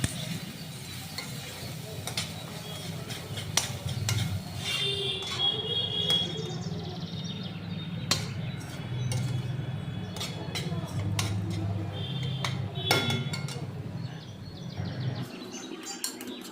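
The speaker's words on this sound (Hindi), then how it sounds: "अब इन सबको अच्छे से इसी के साथ में भून लेंगे। मसाले भी भुन जाएंगे और ग्रेवी भी हमारी अच्छे से भुन जाएगी।" Spiced masala and gravy being fried in a pan for jackfruit kofta curry, with a steady sizzle and repeated scraping stirs of a spoon against the pan, fairly close, going on throughout with occasional sharp clinks.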